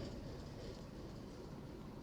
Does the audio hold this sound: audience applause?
no